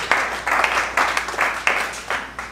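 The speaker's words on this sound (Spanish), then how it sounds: "un aplauso al Señor entonces" Congregation applauding in a church service, several bursts of clapping rising and falling in waves over a couple of seconds, moderately near.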